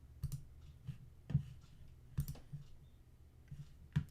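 Computer mouse clicks while working in Photoshop: five faint, isolated clicks spaced about a second apart over a quiet room background, no talk.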